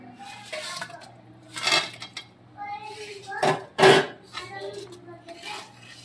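Papaya fritters are dropped into simmering curry in a metal pot, giving scattered close clinks and scrapes of a spoon against the pot, with a voice speaking between the bursts.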